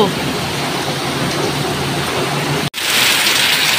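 A heavy downpour pours as a loud, even wash of hiss that continues without letup, broken only by a sudden short cut to silence before it resumes.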